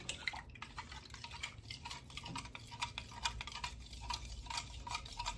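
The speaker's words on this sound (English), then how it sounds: "We're gonna stir this again." Old used cooking oil mixture gets stirred in a container, a quiet series of light clinks and wet ticks from the utensil repeating irregularly over a faint background.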